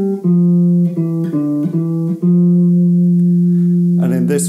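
A few sustained, clean guitar notes from the melodic minor scale step up and down from the root in a short phrase, ringing out clearly, ending with a brighter strum.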